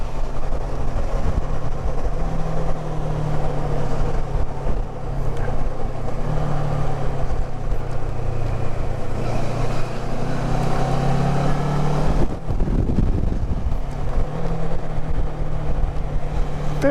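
Steady engine drone from a Kawasaki Versys 650 motorcycle while riding, a continuous mid-loud hum with slight pitch shifts as speed changes, backed by wind and road rush, with no one talking.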